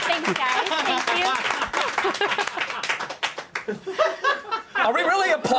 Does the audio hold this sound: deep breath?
no